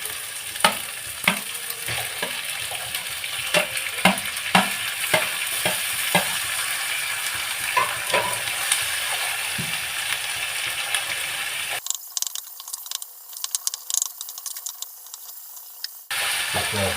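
Tomatoes sauté in a pan for chicken gravy, a continuous close sizzle with repeated stirring knocks and scrapes, interrupted by a few seconds of thinner, muffled sound.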